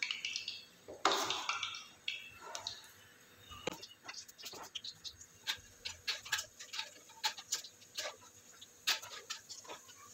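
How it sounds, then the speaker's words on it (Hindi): Besan (gram flour) pakoras frying in hot oil in a wok, a steady crackle and sizzle with scattered sharp pops and ticks throughout, fairly quiet and close, with no talking. "पकौड़े फ्राई हो रहे हैं"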